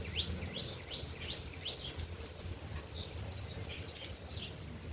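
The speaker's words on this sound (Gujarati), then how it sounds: "મસ્ત ચકલા બોલી રહ્યા છે" Sparrows chirp in a home courtyard, with short bright calls repeating in quick bursts over a steady hiss of background noise.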